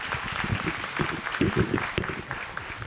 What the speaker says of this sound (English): let's give another round of applause for this great occasion.